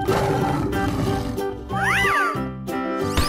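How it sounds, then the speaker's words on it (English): Cartoonish tiger roars from a children's animal painting game, a few loud sweeping growls and meow-like calls heard alone, close and clear. "Tiger."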